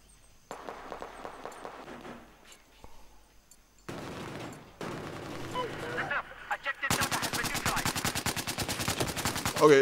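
SAR rifle fire in Battlefield 4 rings out in spaced single shots, then a dense, loud run of rapid gunfire near the end, with other battle noise in between.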